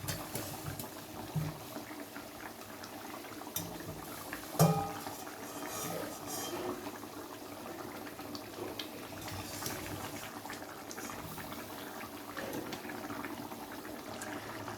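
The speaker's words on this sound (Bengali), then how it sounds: "আলুগুলো দিয়ে ঝোলের সাথে কিছুক্ষণ ফুটিয়ে নেওয়ার পরে" Potatoes simmering in a Bengali shankar fish curry broth, a soft, steady low bubbling that stays faint and continuous throughout, with one brief clink partway through.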